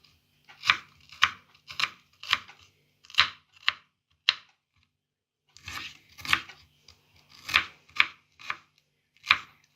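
A knife chops ingredients for a traditional Serbian breakfast on a board in quick bursts of crisp, sharp strikes, with a short pause partway through, close and fairly quiet with no talking.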